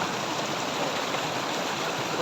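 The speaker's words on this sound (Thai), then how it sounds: "ฝนกำลังตกเลยนะทุกคนเนี่ย" Heavy rain pours near a stream and waterfall at a campsite, a dense, steady wash of hissing water, loud and unbroken throughout with no voices.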